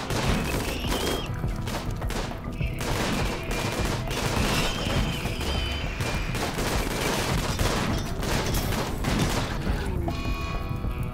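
Gunfire in a Rimworld battle against mechanoids: dense, continuous volleys of rapid shots and bursts with occasional booms, loud and close throughout, with a voice faintly underneath.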